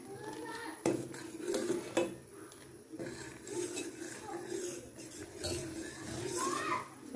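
A spoon stirs masala tea in a pot with a few metallic knocks and scrapes, heard close under someone talking and some faint background voices.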